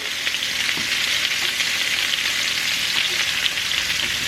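Mozzarella-stuffed meatballs sizzle loudly and continuously in a frying pan after being flipped, a dense, even hiss with faint clicks and no voices.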